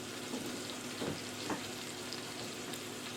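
Turkey Salisbury steaks frying in a pan, a steady close sizzle with a few soft scraping stirs, and no voices.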